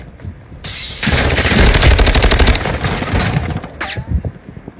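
Rapid automatic gunfire in a shooter video game, a loud close burst of fast repeated shots lasting a few seconds, then a few scattered clicks and impacts as it stops.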